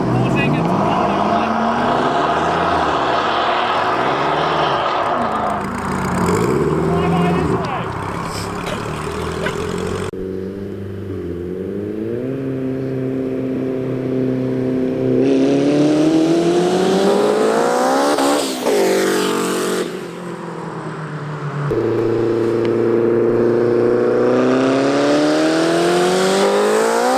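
The quad-turbo Honda Civic engine revs hard on a dyno, loud and close, its pitch sweeping up through the gears with brief drops between pulls. People talk over the roar.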